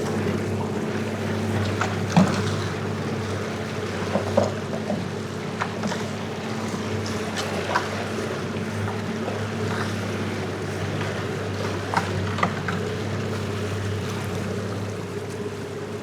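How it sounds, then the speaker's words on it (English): Boat outboard motor running in gear at low speed while trolling a daisy chain lure with squid, a steady droning hum with wind and water noise throughout, no talk. "I'm just gonna put the boat in gear and let's just test it."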